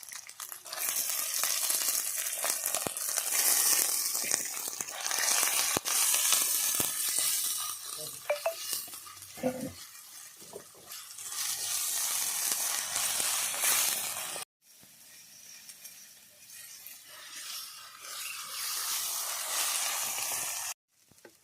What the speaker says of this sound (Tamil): இப்போ வந்து கருவேப்பிள்ளையும் வெங்காயமும் சேர்த்துக்கலாம்